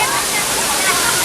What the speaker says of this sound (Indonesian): ngalir nih airnya dari sini baru turun ke sungai